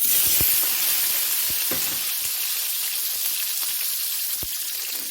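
Loud, bright sizzling of tomatoes frying in a hot iron wok, with a few sharp clacks of a utensil stirring and scraping against the metal.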